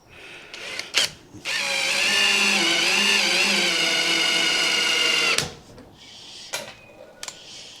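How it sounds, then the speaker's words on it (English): A cordless power drill on a low torque setting whirs steadily for about four seconds as it drives a screw into a door hinge, framed by short clicks and handling bumps before and after. "too strong a torque setting, I've got this on about 6. Just put the screws in."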